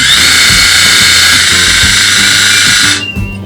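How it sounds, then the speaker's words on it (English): A Philips Satinelle Advanced BRE 210 battery-powered epilator runs close by with a loud, steady high-pitched whir and a faint rhythmic ticking underneath, then cuts off after about three seconds. "The Satinel Advanced Epilator is battery operated and it has 2 speed settings."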